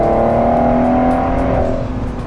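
A Ford GT, a rear-wheel-drive supercar, accelerating hard on a coastal road, its engine note loud and close with a strong sustained tone that rises steadily and then eases slightly near the end; no talking.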